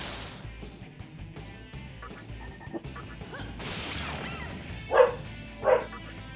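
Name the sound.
two-year-old pet dog barking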